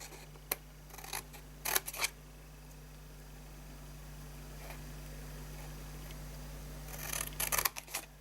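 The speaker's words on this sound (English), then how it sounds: "now we're going to cut up to that second level" Scissors cutting paper for a handmade fold-flat chocolate gift box, several short close snips in quick bursts, then a quiet stretch and another cluster of snips at the end.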